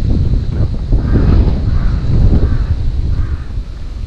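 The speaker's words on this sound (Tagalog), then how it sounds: "Nasa puno lang yung mga uwak." Crows caw from trees at a forest campground in Japan, four evenly spaced harsh calls at moderate distance over steady wind noise.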